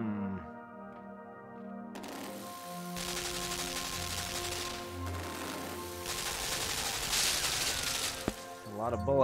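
Rapid gunfire from many bullets crackles in the video game Limbo, a dense rattling barrage over a droning musical backdrop, with a sharp hit near the end.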